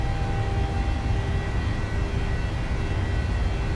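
Boeing 737-600 engines at full takeoff thrust in a flight simulator game, a steady, loud roar with a faint whine and no breaks across the stretch.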